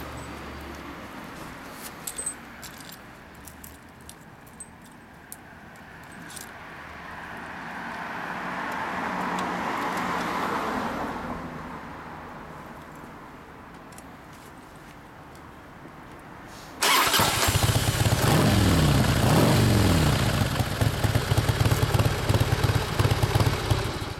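After a long stretch of quiet background noise, a Harley-Davidson Dyna FXDX Super Glide Sport with a Hot Run muffler fires up and idles loudly with a deep, rough, throbbing rumble.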